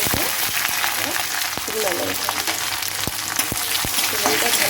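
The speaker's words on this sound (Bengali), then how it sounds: "ফোড়নে দিব এক চামচ মৌরি" Fennel seeds spluttering in hot ghee for a chicken do pyaza, a dense loud sizzle with sharp crackles and pops scattered through it, close up and continuous.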